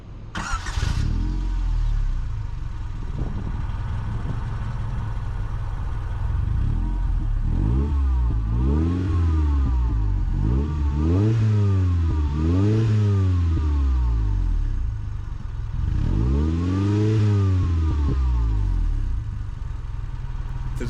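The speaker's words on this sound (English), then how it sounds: "My HKS exhaust sound." A 1990 Honda Civic Si hatchback, lowered, with an HKS exhaust, idles and then revs repeatedly in several rising and falling sweeps, loud and close, with a deep, throaty exhaust tone.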